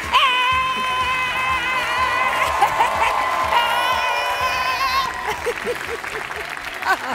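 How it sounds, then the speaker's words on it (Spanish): An audience claps throughout while a loud voice calls out over the applause, at a blind audition on The Voice Chile. "Un fuerte aplauso."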